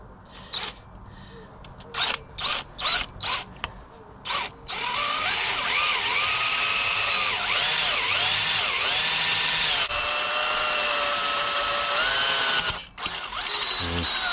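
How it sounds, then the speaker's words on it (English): A power drill whines steadily through a metal BMX bike frame after a few short bursts, loud and close, with brief pauses and clicks near the end. "we need to step up the drill bit again"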